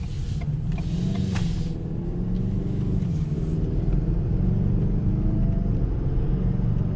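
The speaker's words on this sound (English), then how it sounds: "Sounds like a 4-cylinder, don't it?" A Ford Bronco Sport Badlands Edition with its EcoBoost four-cylinder engine runs from inside the cabin, a steady low rumble with a slight rise in pitch, alone and moderately loud.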